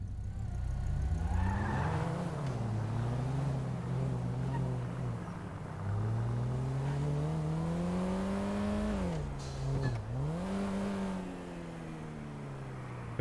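An engine revs and shifts as a car is driven in a SpainRP roleplay game, a steady loud drone rising and dipping in pitch through gear changes, with one sharp drop near the end before it climbs again.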